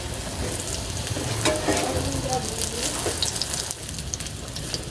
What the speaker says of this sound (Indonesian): Kemudian saya goreng terongnya.